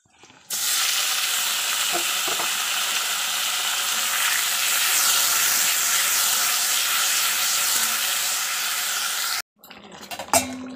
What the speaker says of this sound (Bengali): আলু চিকেন এখনো কষানো হচ্ছে